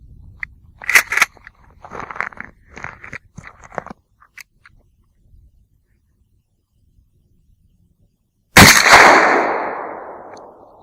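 A single loud, sharp shotgun blast from a Mossberg 500 Field pump firing 3-inch Black Cloud No. 2 steel shot through a modified choke, with a long decaying echo outdoors, preceded by soft handling clicks and rustling.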